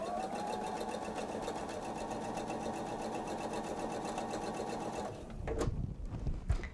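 A sewing machine runs steadily for about five seconds, stitching a seam along the edge of a quilt, then stops and leaves a few soft handling clunks.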